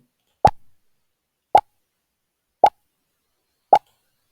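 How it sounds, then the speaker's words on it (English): Four short, identical pop sounds from PictoBlox at even intervals, about one second apart, each crisp and isolated against complete silence. "from the stage, you get the pop sound"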